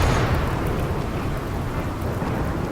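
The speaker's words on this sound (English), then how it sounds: "And there is the rain." Steady rain in the video game RimWorld, a dense broadband wash with deep rumbling undertones like distant thunder, continuous and fairly loud with no talk.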